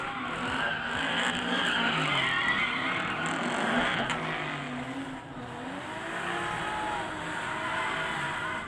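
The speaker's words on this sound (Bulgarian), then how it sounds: "се казва един истински бърнаут, единствено и само заради вас" A car at a drift show does a tire burnout, with sustained squealing tires and engine roar that carry on unbroken at a moderate distance.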